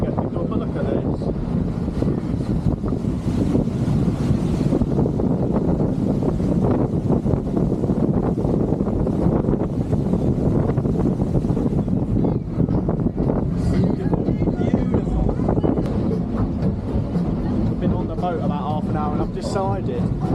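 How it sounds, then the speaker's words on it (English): A rickety boat speeds across Lake Atitlán in Guatemala, its engine roar and hull slap mixed with steady wind buffeting the microphone, loud and continuous throughout, with voices talking over it. "This is the most rickety boat I've ever been on."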